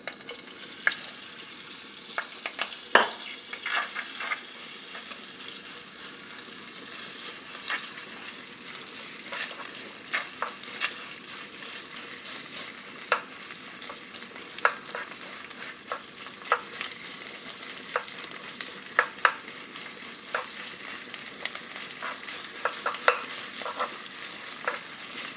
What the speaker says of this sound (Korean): 고기를 먼저 볶을 거예요.